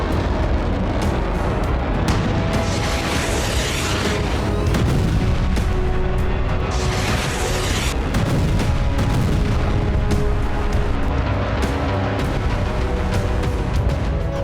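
Heavy, continuous rumbling blasts with sharp cracks and booms layered throughout, loud and dense like a barrage of explosions, in the Russia–Ukraine war.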